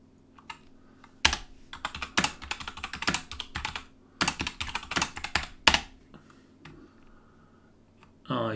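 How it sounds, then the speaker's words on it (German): A computer keyboard clatters in uneven bursts of quick keystrokes, with loud separate clicks, pauses between flurries and a final hard tap, close and dry. "Oh, ich liebe diese Tastatur über alles."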